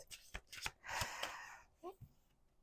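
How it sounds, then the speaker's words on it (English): Oracle cards being shuffled in a few quick riffling bursts, close and fairly soft, with someone talking briefly around them. "Let's do 2 more shuffles."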